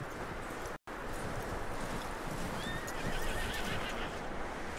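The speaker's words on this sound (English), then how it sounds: "That looks like a decent horse." A horse in the video game Red Dead Redemption 2 gives a loud, close whinny over steady outdoor wind and rumble, with hooves clopping beneath it and a brief dropout of sound early on.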